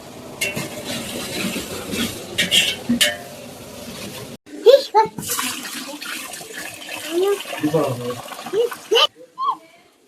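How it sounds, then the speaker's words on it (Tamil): Soaked bullet rice being swished and washed in water in a pot, with sloshing, splashing and light grain clinks in irregular bursts, close and fairly loud. "2 கழனி தண்ணியை கலந்து அந்த அழுக்கு தண்ணியை வெளியே ஊற்றிடணும்."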